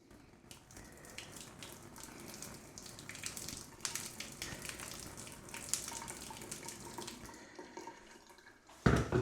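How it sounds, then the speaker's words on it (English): Hot water poured over a damaged Hobby King Viper model airplane during a repair, a steady close splashing and trickling stream that runs for several seconds with a louder splash at the end. "Once you apply the hot water, pour it on there."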